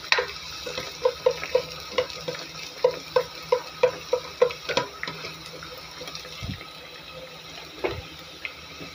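Onion sautés in a pan for shrimp sinigang, a soft sizzle beneath quick clinking stirs that come in a steady rhythm, then slow to a few scattered scrapes and knocks near the end.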